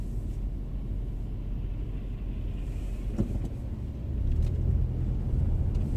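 A car drives through the winter streets of Anadyr in Chukotka, heard from inside the cabin as a steady low engine and road rumble that swells louder toward the end.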